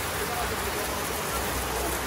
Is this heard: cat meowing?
no